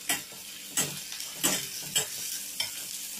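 Garlic and green chillies fry in hot oil with a soft sizzle, interrupted by several sharp scraping knocks from stirring at a steady, unhurried pace, close by and without talk.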